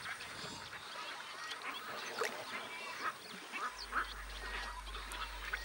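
Ducks calling in a Venezuelan wetland alongside spoonbills, egrets and ibises, with scattered quacks and bird calls over a steady natural chorus and a low hum entering late.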